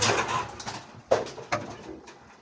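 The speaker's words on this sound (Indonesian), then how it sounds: "ini merpati yang sedang mengerami telur" A pigeon sitting on its eggs coos nearby in low, soft bursts, with a couple of sharper rustles or taps between the calls.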